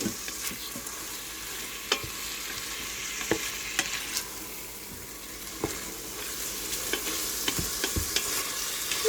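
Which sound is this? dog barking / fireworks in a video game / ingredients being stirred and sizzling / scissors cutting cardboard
ingredients being stirred and sizzling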